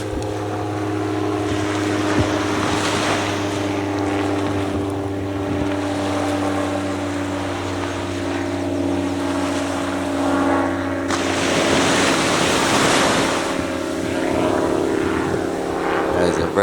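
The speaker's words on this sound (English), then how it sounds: "That is a very small plane indeed." A small propeller plane drones steadily overhead, its hum swelling toward the end, with wind and water noise around it.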